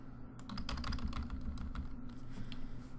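Typing on a computer keyboard while entering a spreadsheet formula, a quick close run of light clicking keystrokes with a short pause before a few more taps.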